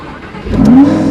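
A Lamborghini Huracan engine fires up, a brief quiet moment followed by a sudden loud, rising roar that swells close and strong.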